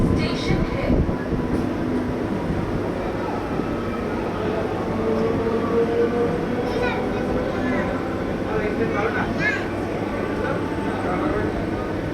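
A train rolls into Bally station with a loud, steady rumble and rattle of wagons and faint squeals from the rails, while people talk over it throughout.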